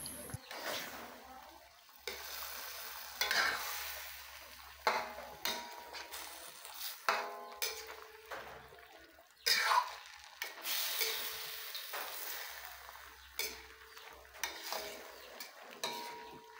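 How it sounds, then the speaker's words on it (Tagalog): Chicken adobo with lemongrass is stirred in a pan, a spoon scraping and clinking against the metal in repeated strokes over a low, soft sizzle, with brief pauses between stirs. "At haluin na natin ito."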